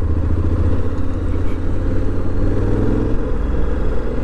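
A Honda X-ADV motorcycle engine rumbles steadily while riding on a test ride, a close, loud low drone with mild fluctuations in revs and road clatter, no voices over it.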